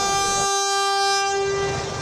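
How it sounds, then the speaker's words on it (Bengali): A passenger train rumbles along the rails while its horn blares loud and sustained over the rolling noise, close by, through almost the whole moment. "চলবে 5 জোড়া ঈদ স্পেশাল ট্রেন।"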